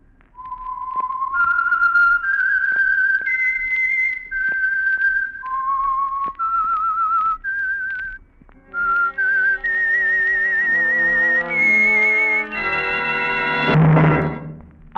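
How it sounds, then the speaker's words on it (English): A lone human whistler performs the signature tune of the Signal Oil radio program The Whistler, a clear, loud melodic line of sustained notes in phrases, ending with a brief orchestral swell. "the signal to listen for is this whistle that identifies the Signal Oil program"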